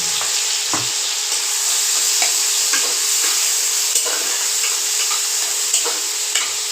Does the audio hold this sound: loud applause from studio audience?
no